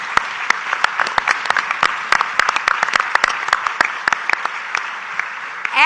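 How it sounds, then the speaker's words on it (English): Crowd applause at a poverty roundtable event in South Carolina, loud and sustained with dense, sharp individual claps throughout. "Let's give them another big round of applause."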